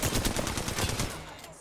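Rapid automatic gunfire from a gun in a video game, a fast burst of close, loud repeated shots that fades out near the end.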